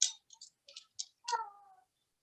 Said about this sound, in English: I'm so sorry for the cat yowling.